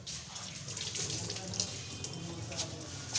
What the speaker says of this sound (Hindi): हाथ धो लो, यहाँ पर फेंको इसको